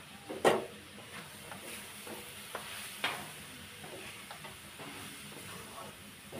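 Semolina fries in a pan with carrot, a soft steady sizzle with occasional stirring scrapes and small clicks, fairly quiet and close, with no talk.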